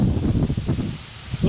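Wind rushes through perennial cottage garden plants, a soft, continuous hiss and rustle of leaves. It swells in gentle gusts and stays close and fairly quiet throughout.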